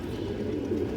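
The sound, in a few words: red dobaz pigeons cooing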